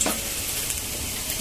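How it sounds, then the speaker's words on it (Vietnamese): Garlic stir-fried in fat in a pan sizzles and crackles steadily up close in a brief burst, with no talking. "Xào qua xào lại cho tỏi nó thơm"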